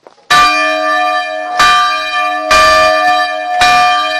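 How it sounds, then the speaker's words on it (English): A bright bell rings four times, each loud strike followed by a long shimmering tone that hangs until the next. "that sounds like more like a wedding bell, more like a cheerful bell."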